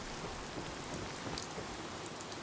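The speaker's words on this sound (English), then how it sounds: "Ooh, nice thunder cut off." Steady heavy rain pours in the Fallout 4 video game, a dense continuous hiss with a low rumble of thunder underneath, constant in loudness with no voices.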